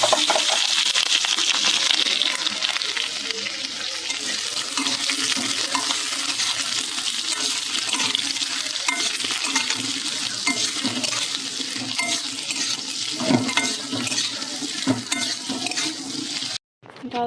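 Cut papaya and potato hit hot oil with nigella seeds in a home kitchen, a loud rushing sizzle that settles into steady frying with occasional stirring scrapes before cutting off abruptly.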